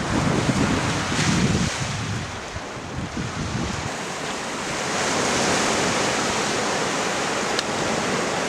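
Ocean waves roll and wash along the wild Olympic National Park coastline as a continuous broad roar, heavily mixed with gusty wind buffeting the microphone, with no voices.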